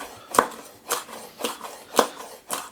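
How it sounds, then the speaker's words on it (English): A knife chops green beans into little pieces on a cutting board, five or six crisp, evenly spaced strikes close up with no talking. "I'm just going to slice them up into little pieces."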